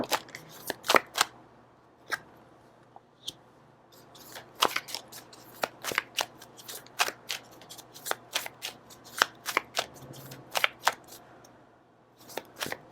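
Tarot cards being shuffled, a long run of crisp riffling flutters and soft slaps in irregular bursts, close and fairly quiet, with no talking.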